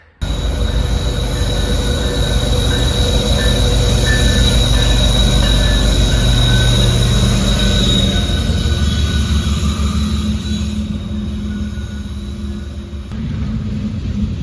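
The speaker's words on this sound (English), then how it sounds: "FYI, this is another trash train" A freight train hauling trash rumbles past close by, wheels squealing steadily above a heavy low roar that continues throughout, easing slightly near the end.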